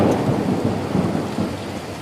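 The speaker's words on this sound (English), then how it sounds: "it had started raining outside" Heavy rain pours steadily while low thunder rumbles beneath it in a horror video game mod, a dense continuous wash with no voices.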